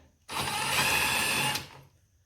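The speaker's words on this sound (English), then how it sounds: "there's one more T30 bolt here on the left side of that plastic housing we're going to remove" A power driver backs a T30 bolt out of the plastic housing on an Arctic Cat 500 ATV, one steady whirring burst of about a second and a quarter, close and loud, with no talk.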